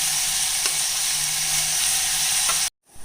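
Steady, close sizzling of sautéed onions and tomato frying in a pan, with occasional stirring scrapes, then a brief cut to near silence.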